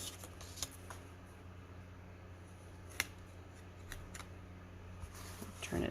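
Scissors snip through designer series paper, giving a few sharp, close cuts spread over several seconds against a quiet room hum with light rustling and no talk.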